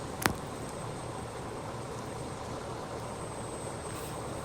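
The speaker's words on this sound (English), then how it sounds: "That is the auxiliary power unit." An airliner's auxiliary power unit in Microsoft Flight Simulator 2020 during pushback, a steady low jet drone with a faint high whine, after one brief sharp click at the start.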